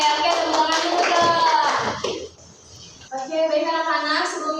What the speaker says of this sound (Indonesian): Oke, tepuk tangan juga.